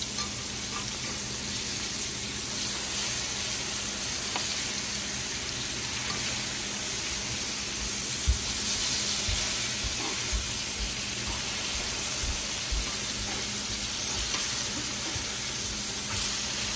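Pork chops sizzle steadily in a hot pan, a constant fine hiss with occasional small pops and crackles running for the whole stretch at moderate level, no talking over it.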